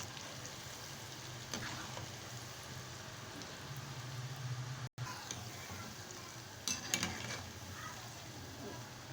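Namak pare frying in hot oil, stirred slowly with a spoon, give a steady soft sizzle with a couple of faint scraping knocks near the end.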